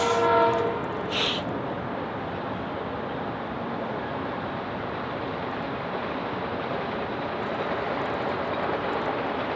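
A train rolls past steadily with a loud, sustained rumble and rush of wheels, and a brief horn blast sounds right at the start before the passing noise continues alone.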